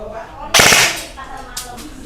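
Short burst of rapid shots from a toy or airsoft gun fired in burst mode, a loud dense volley of about a third of a second followed by a fainter single crack, with no talking.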